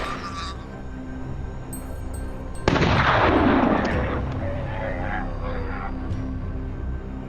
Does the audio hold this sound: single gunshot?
yes